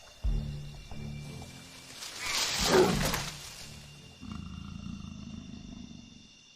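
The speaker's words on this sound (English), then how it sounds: "As the sun begins to set, Yarla's leopards start to stir." Leopard in Sri Lanka's Yala at dusk and night, giving a deep rumbling growl that swells to a loud breathy roar midway, then a steady low purring rumble continues close by.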